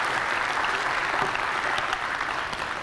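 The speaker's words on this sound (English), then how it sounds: "you can clap" Steady audience applause at a conference keynote, a continuous wash of clapping from a crowd that holds evenly and eases slightly near the end.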